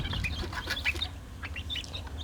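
One-month-old laying hen chicks of three breeds and colours peep softly in their pen, with a quick flurry of high, thin chirps over a low steady hum.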